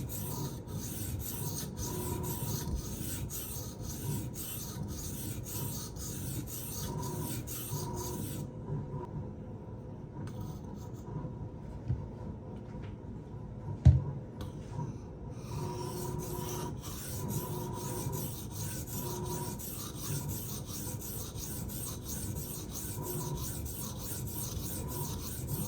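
A Protech Strider PT knife with a 154CM steel blade is sharpened in close, steady, repeated rasping strokes against a background hum, with a quieter pause midway marked by a single sharp tap before the strokes resume.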